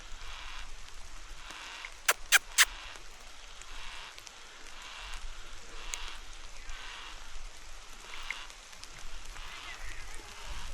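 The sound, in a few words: rain falling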